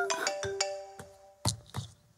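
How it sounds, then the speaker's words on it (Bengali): A phone ringtone plays a short, bright electronic melody of tonal beeps, loud and close, followed by a few clicks and thumps with no speech. "মা ফোন এসছে।"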